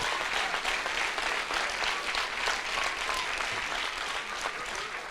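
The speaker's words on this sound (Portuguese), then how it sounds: "Dê uma salva de palmas a Jesus." A church congregation gives a dense, steady round of applause during a Protestant service, a continuous wash of many hands clapping together with no speech on top.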